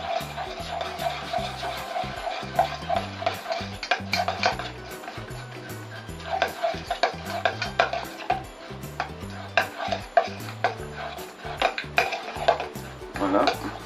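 A spoon stirring cocktail sauce in a bowl, with rapid, close scraping and clinking against the sides in a steady rhythm, and no talking.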